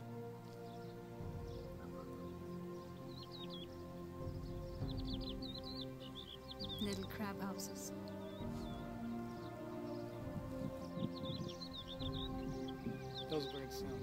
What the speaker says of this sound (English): Those birds sound good.